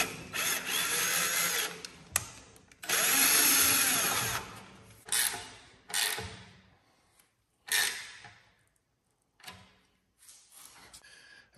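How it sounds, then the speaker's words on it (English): Power drill driving self-tapping screws to mount a Kenway LED trailer light, loud close bursts of whirring and ratcheting that come in several short runs separated by silences. "I'm gonna make sure that I'm off of my old holes and screw in new holes and get this light"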